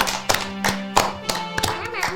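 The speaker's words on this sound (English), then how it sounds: "Let's give him a nice big round of applause." Sparse, spaced hand claps from a small audience at a tabletop role-playing game show, each clap distinct and sharp, heard under ongoing talk.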